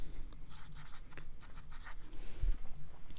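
Writing practice on tracing paper at a craft table, with close, scratchy strokes of a writing tool across thin paper coming in quick, uneven bursts, alone without talk.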